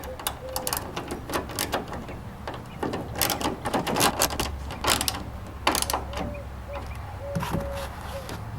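A ratchet tightens a bolt on a corner marker light of a 2014 Ford SVT Raptor, with bursts of quick mechanical clicking close by, mixed with faint chirps and a low background hum.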